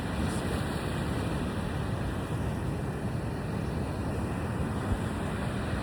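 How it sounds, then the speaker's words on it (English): Ocean waves crash continuously onto the Big Island shore in Hawaii, a dense, steady roar of surf mixed with wind noise buffeting the microphone. "Crashing waves in front of me."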